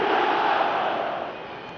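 A football stadium crowd roars in a dense, sustained wall of noise after a Manchester United goal, loud and close at first, then easing slightly toward the end.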